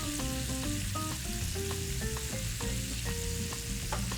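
Shrimp fry in a pan with a continuous close sizzle and crackle, joined by light clinks and stirring taps of a utensil against the pan.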